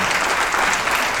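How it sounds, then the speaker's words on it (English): Applause from a concert audience for the members of a university wind chamber orchestra, a dense and steady wash of clapping that stays loud and even throughout. "Could you please give them a round of applause?"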